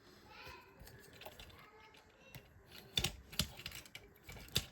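Paper from a giant instruction booklet for Transformers toys rustling and getting whacked, with sharp crinkly taps and flaps in an irregular rhythm, close and moderately loud over faint background voices.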